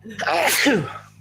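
A single loud human sneeze, sharp and close, with a quick rising burst that fades into a short tail of breath.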